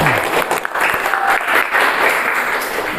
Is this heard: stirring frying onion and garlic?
no